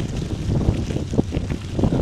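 A northwest wind buffets the microphone during a tandem bicycle ride, making a continuous low rumbling roar with uneven gusty surges and no clear voices.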